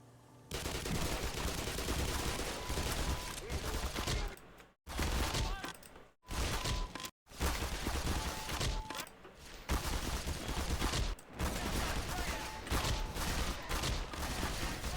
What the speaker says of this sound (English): No, I do actually have to shoot him.